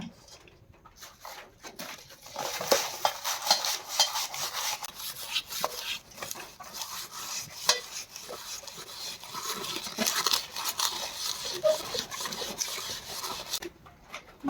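A pangas fish being cleaned by hand, with steady rubbing and scraping in wet, rasping strokes, close and continuous, with no talking.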